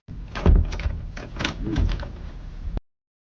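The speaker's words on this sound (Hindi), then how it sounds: "जब उसने दरवाजा खोला" A door creaks and thumps as it is opened, a close series of knocks and rattles over about three seconds before cutting to silence.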